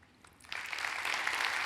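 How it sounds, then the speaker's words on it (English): An audience at a tech award pitch event starts clapping: a few scattered claps at first, then fuller applause that swells and holds steady through the final second. "You are allowed to clap."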